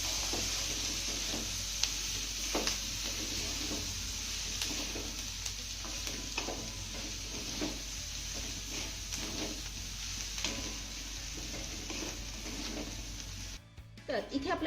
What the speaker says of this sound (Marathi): आता हे सर्व साहित्य आपल्याला पुन्हा 2 ते 3 मिनिटं चांगलं परतून घ्यायचं आहे.